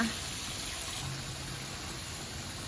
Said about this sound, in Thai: ด้านหลังก็จะมีลำธารไหลผ่านนะคะ